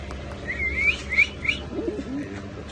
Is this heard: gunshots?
no